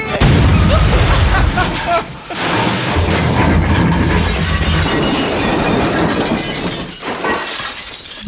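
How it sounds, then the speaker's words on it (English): Sound effect of a car's rear axle falling off a fake Lamborghini replica on a highway, a loud sustained crashing, shattering clatter of metal and glass, dense and close, with a short dip partway through. "The rear axle fell off."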